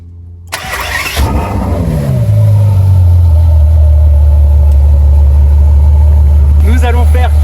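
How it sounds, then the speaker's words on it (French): A V12 car engine cranks and fires, catching with a sharp burst, then settles into a loud, steady, deep idle close by, with a brief voice near the end. "Et nous sommes tout de suite partis pour écouter ce V12 de fou malade."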